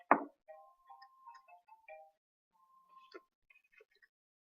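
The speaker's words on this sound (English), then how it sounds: "Sorry, my phone's ringing." A mobile phone rings with a sparse, quiet electronic melody of short chiming tones, starting after a sharp knock and pausing briefly between phrases.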